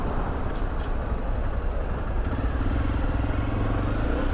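A 2013 Honda XRE300 motorcycle engine rumbles steadily in a heavy traffic jam, a continuous low drone with clattering and passing vehicles around it.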